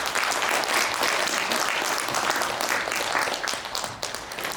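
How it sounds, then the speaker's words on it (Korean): Steady, dense applause from a symposium audience in Ansan welcoming a doctor to the stage, loud and unbroken for several seconds before easing slightly at the end. "큰 박수로 환영해 주시기를 바라겠습니다"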